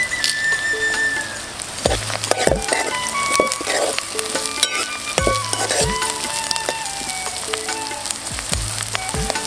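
Onions fry in a pan for Telangana-style sorakaya boti curry in a village kitchen, a steady close sizzle broken by repeated scraping and clinking strokes of a stirring spoon.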